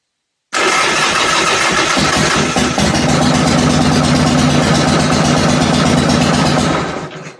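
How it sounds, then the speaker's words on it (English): A motorcycle engine that runs poorly catches and roars loudly right away, holding a rough, steady drone for several seconds before fading out, close by and with no voices. "This does not seem to want to run right. Let's see if I can get it to run."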